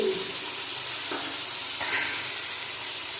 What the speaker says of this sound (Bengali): এখন ভালো করে মশলাটা কষাবো